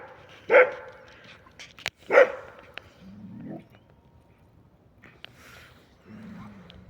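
A dog barks during a night walk in a Kyiv forest: two loud, sharp barks close together near the start, then quieter low whimpers and grumbles, with brief voices nearby.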